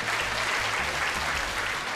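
Studio audience applause, a dense, even clapping from a crowd filling the whole moment without a break.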